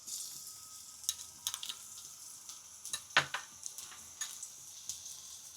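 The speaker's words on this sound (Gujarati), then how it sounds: "તો આપણે તેલ ગરમ થઈ ગયું છે. તો આપણે લસણની પેસ્ટ હતી આપણે નાખી દઈ." Garlic paste hits hot oil in a pan for a vegetable paratha recipe, giving a quiet close sizzle broken by crackling pops and a few sharper spits, with no talking.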